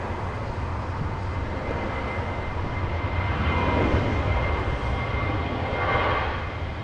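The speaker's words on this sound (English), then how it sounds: "We also have a southwest departure happening right now" A Southwest airliner departs Los Angeles International Airport, its engines a steady, broad roar that swells slightly midway and again near the end, heard from a distance outdoors with no talking.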